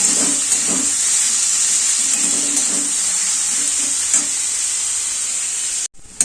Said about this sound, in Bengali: সব সবজিগুলোই আমি একসাথে দিয়ে দেবো দিয়ে আমি ভেজে নেব একটু